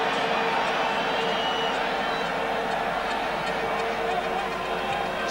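A football crowd at a Feyenoord versus Tottenham UEFA Cup final reacts to an off-the-ball incident, a dense, steady roar of disapproval filling the stadium throughout, loud and continuous with no clear individual voices.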